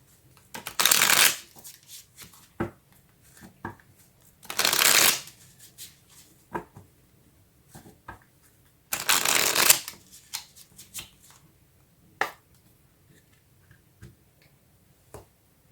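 A deck of tarot cards is shuffled in three loud riffling bursts, with light card taps and clicks in the quiet gaps between them.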